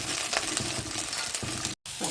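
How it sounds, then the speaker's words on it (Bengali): Potato and cauliflower frying in a pan with panch phoron and chopped green chilli, giving a steady close sizzle with faint stirring and a brief dropout near the end. "আজকে আলু ফুলকপি ভাজা করবো।"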